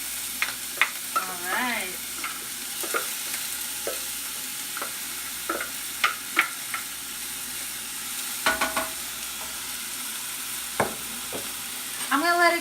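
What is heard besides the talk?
chopped onion frying in olive oil in a small pot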